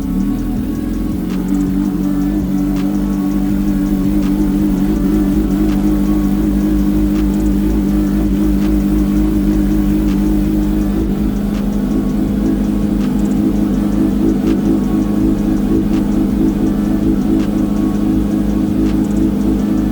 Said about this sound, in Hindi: अब बाइक करते हैं रीस्टार्ट